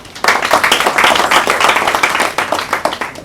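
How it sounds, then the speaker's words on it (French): Applause at a French award ceremony for a national excellence prize, a steady, dense burst of hand clapping from an audience that swells quickly, holds loud and even for about three seconds, then starts to thin. "Applaudissements encore."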